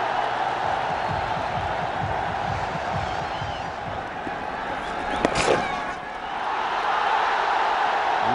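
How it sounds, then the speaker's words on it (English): A stadium crowd at a one-day international cricket match between India and Bangladesh keeps up a steady, broad roar of cheering throughout, swelling slightly toward the end, with a brief sharp spike near the middle. "Listen to the crowd."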